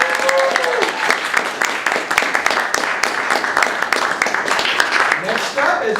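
A crowd cheers and claps steadily for a candidate, Ashley Pennington Crest, at a live show; dense applause and cheering fills the room, with voices mixed in.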